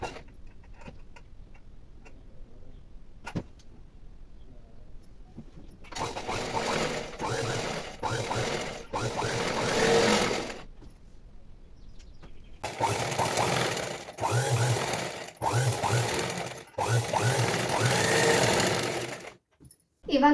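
A tailoring sewing machine stitches cloth in two long bursts of rapid mechanical clatter separated by quieter pauses, close and loud, with brief stops and restarts within each run.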